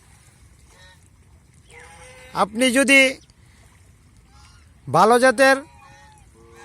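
Geese at a gosling breeding farm give two loud bursts of honking, each a short run of calls, separated by a quiet gap, with someone talking nearby.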